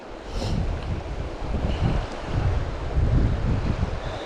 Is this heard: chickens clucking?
no